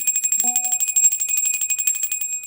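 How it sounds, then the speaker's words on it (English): A small bell is struck once near the start and rings out in a bright, sustained tone that slowly fades over a steady high-pitched background whine. "We are ringing the bell."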